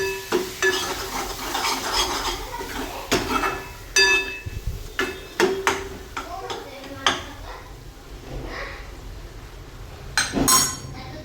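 Homemade masala and vegetables for hotel-style pav bhaji being stirred and sautéed in a pan, with repeated scraping and metallic clinks of a spoon against the pan under a steady sizzle, close and fairly loud.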